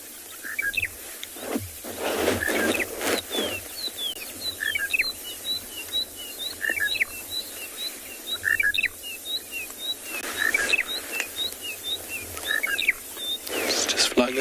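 A monotonous lark calls repeatedly from the bush at sunrise on a South African safari, bright chirping notes recurring at steady intervals over a low vehicle hum, with other birds faintly around.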